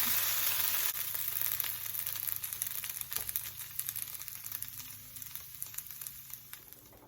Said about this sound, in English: This is 1 whole potato, washed, diced, and I'm frying that.